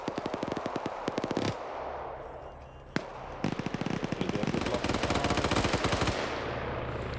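A GPMG machine gun fires in a PvP video game match, with rapid bursts of rhythmic shots, a short pause, a sharp crack, then long sustained automatic fire that stays loud and close.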